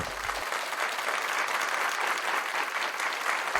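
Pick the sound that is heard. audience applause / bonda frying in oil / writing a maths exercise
audience applause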